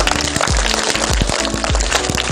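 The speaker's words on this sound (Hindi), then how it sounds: "जोरदार तालियां बजाओ" Audience at the close of a magic show claps loudly and steadily, a dense, continuous wash of applause with heavy low thumps, close and overpowering.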